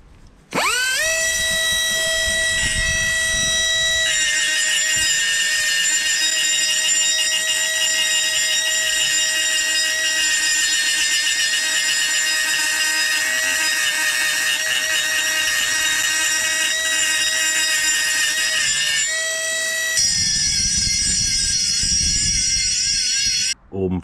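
A power grinder works steadily on a VW Golf 2 cylinder head, rounding off edges in a loud, continuous high whine that runs for about twenty seconds with brief dips in pitch and a short stop near the end.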